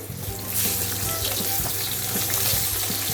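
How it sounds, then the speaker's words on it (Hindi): Vegetables frying in oil in a kadai for a no-onion, no-garlic navratan dish, a dense close sizzle with a low hum and occasional stirring clinks, no talk. "वही कढ़ाई में, मसाला का कढ़ाई में हमने थोड़ा तेल डाल दिया है और उसी में हम ये सब्जी फ्राई करके ले लेंगे।"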